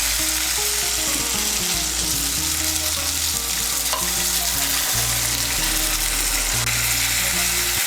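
Half a cup of water poured into spiced pointed gourd (potol) sizzling in a pan, loud continuous frying hiss and bubbling with stirring scrapes close up.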